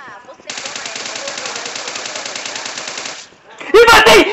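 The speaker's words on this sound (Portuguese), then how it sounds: "espreitando o murinho com medo do Kaique, dá um tiro na bunda dele e ele falecer" Automatic gunfire in the mobile battle royale game PUBG Mobile, a long rapid burst of loud shots lasting about three seconds, followed after a short pause by a louder, harsh burst of other game sounds.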